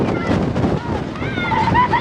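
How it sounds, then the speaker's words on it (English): Strong wind buffets the microphone outdoors on a warm day near Tucumcari, New Mexico, a rumbling gusty roar under a person talking. "but it's super windy."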